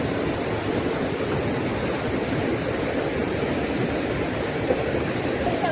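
A stream in the countryside rushes past in a steady, dense wash of water, unbroken and fairly close, with no voices over it.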